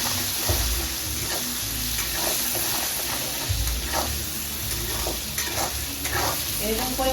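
Turmeric fries in a pan for a pabda fish curry with a continuous sizzle under steady, repeated stirring and scraping, heard up close without speech.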